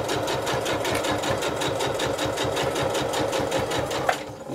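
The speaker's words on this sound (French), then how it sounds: "couture d'un seul tenant sur tout le tour de l'ouvrage" A sewing machine runs a continuous seam around the edge of a fabric beach pouch, its needle thumping in a fast, steady rhythm at close range before stopping near the end.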